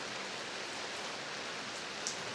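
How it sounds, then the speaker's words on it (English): Rain falls steadily over a millet field, a soft, even, continuous hiss with no voices. "Rain began to fall there too."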